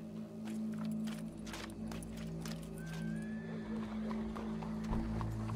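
Horse hooves clip-clop steadily in a Red Dead Redemption 2 game scene, with a neigh rising briefly midway over a low ambient hum and music bed.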